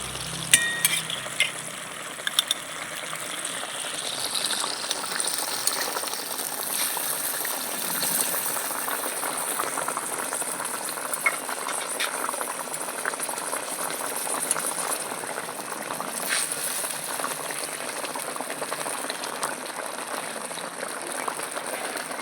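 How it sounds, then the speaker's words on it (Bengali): Fish curry gravy at a rolling boil with fried pabda fish, a continuous close bubbling and hissing with light splashes and faint stirring, no one speaking. "ঝোলটা ভালো মতন ফুটে উঠেছে ভেজে রাখা পাবদা মাছগুলো আমি দিয়ে দিচ্ছি"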